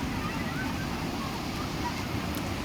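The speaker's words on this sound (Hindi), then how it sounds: "कचना से खोरा गाछ जाने वाली सड़क पर 3 फीट तक पानी बह रहा है।" Floodwater about three feet deep rushes across a road between Kachna and Khora Gachh in Bihar after an embankment breach, a loud, steady, close roar of flowing water with no pauses.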